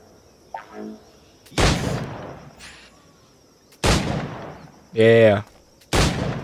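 Gunfire in the pirate video game Assassin's Creed Black Flag: several loud, separate gun blasts with sharp onsets and decaying tails, spaced a second or two apart, with brief spoken remarks between them.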